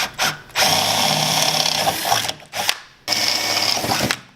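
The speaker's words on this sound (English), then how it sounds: "Now I got all our pilot holes drilled, so we'll just go ahead and take them to a 1/4 inch hole." A power drill widens pilot holes to 1/4 inch in the tunnel of a Ski-Doo snowmobile, whirring loudly and steadily in three bursts with short pauses between them, close to the mic.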